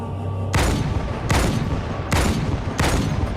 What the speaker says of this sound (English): just a billion grenades being thrown